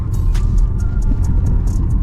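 A Volvo EX30 on Michelin Pilot studded tires accelerates on ice, its drive revving steadily with a loud low rumble, while faint rhythmic crunching ticks repeat above it as the tires spin.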